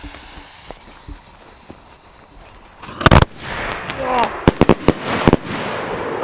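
A few crackly pops at first, then a series of sharp bangs from a 30 mm seven-shot firework battery in quick bursts, loud and close, with voices talking underneath.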